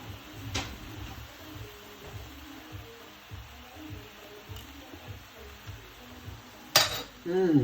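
Spoon tapping and clinking against a dish while tigrillo is tasted, soft scattered taps over quiet room tone, ending in a brighter, louder clatter of metal on dishware.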